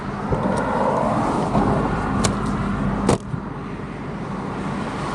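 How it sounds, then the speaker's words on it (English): Fast traffic on a highway rushes past at close range while someone stands by a car with a flat tire, a steady loud roar broken by sharp whooshes of passing vehicles. "people is driving very fast and very close to me"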